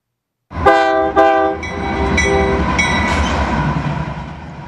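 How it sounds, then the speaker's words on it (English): A coal freight train rumbles past at close range in Glenwood Springs, Colorado, with a loud horn-like harmonic blast at the start followed by steady heavy rolling noise and wheel clatter. "This is a coal train moving through Glenwood Springs, Colorado."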